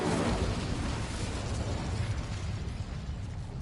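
A fire spell, Incendio, cast in the video game Hogwarts Legacy: a loud, dense burst of roaring flame and crackle right at the start that rumbles on and slowly thins across the few seconds, with no voices.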